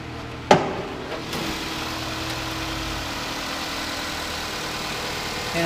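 Steady idle of a 1.8-liter four-cylinder engine in a 2010 Nissan Versa, a constant low hum with a brief knock near the start, heard alone at moderate level.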